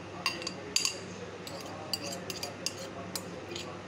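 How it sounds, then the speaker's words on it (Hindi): Shredded potato tipped into a metal strainer, giving a quick series of light metallic clinks and rattles, close and irregular, with a faint steady background hum. "फिर भी हम इसे एक बार एक स्ट्रेनर में डाल लेंगे"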